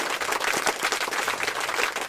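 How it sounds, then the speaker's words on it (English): A round of applause for a quiz team fills the room, dense and steady, with many hands clapping together throughout and no pauses. "A round of applause for the team"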